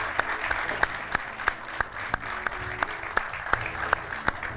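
A small crowd claps with steady applause for a girl in a jersey, cheering on the Pirates; one sharp, rhythmic clap stands out near the front, and no talking is heard.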